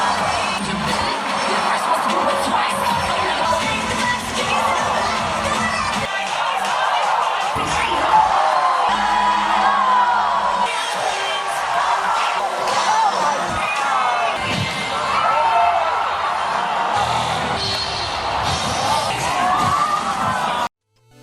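A large crowd at a cheerleading competition reacts with loud, sustained shouting, whooping and cheering that swells and carries on for about twenty seconds, with many overlapping voices close by.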